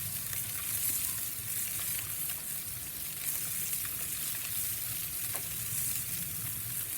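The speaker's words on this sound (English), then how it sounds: "Even here, so that's sizzling away nicely." A skinless cod fillet sizzles on a soapstone inside a Kamado Joe Big Joe 3 grill, giving a steady, close frying hiss with faint crackles and pops throughout.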